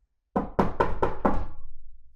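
Five firm knocks on a door in a quick, even sequence, close and distinct, with a short dull decay after the last.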